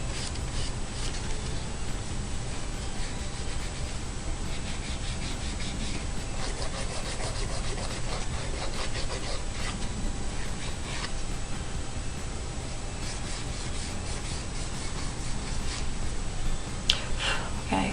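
Acrylic nails worked with an OPI 180 grit nail file, giving a continuous quiet scratchy rasping made of rapid back-and-forth strokes, close and steady throughout.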